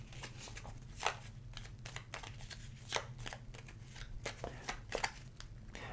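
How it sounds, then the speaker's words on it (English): Tier 1 cards from the Majesty board game are shuffled at a table, a quiet run of riffling snaps and taps heard close up, with no talking. "Tier 1 cards, give it a good shuffle."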